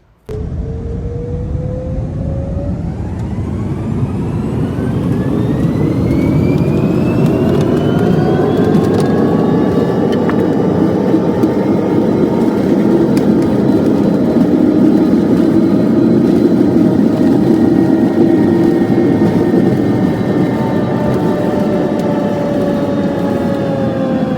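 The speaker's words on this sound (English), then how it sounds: "We were ready for takeoff." A Cathay Pacific jet airliner taking off from Hong Kong Airport, heard from inside the cabin as the engines spool up with a rising whine and settle into a loud, sustained roar.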